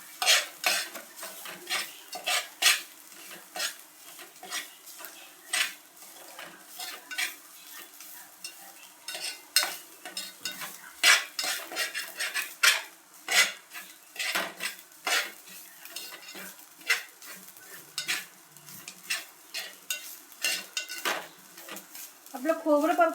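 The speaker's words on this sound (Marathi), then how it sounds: "छान असं तो खोबरं छान असं परतून घ्यायचं." Grated coconut is stirred and roasted in a pan until lightly reddish, a spoon scraping and clinking against the metal in a steady, irregular rhythm over a soft sizzle.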